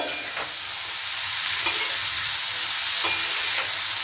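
Cauliflower filling for gobi paratha stirs and fries in a pan with a steady broadband sizzle, a few soft scrapes of the spatula punctuating it at close range, no voices.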